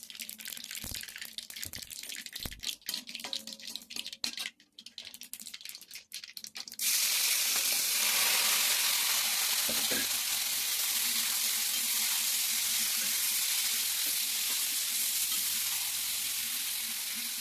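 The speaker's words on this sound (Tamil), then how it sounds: "கடுகு நல்லா வெடிக்க ஆரம்பிச்சு கொஞ்சம் பெருங்காயம் போட்டுக்கலாம்" Mustard seeds crackle and splutter in hot oil in a heavy pan. A dense, loud sizzle starts suddenly partway through and holds steady to the end, after quieter kitchen noise.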